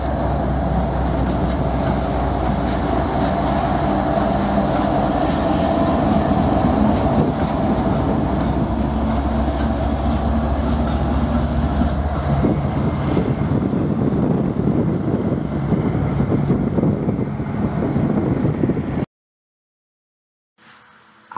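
A CSX freight train, O823, running around its cars in a yard at a Tropicana plant, rumbling steadily and loud throughout with clattering wheel noise, before cutting off abruptly near the end.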